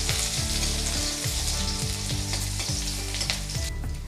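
Garlic and slit green chillies frying in hot oil, a steady close sizzle with crackling spits throughout, no voices over it.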